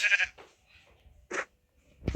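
Three short sheep bleats in a video game, nasal and close, separated by brief pauses, with faint background noise between them.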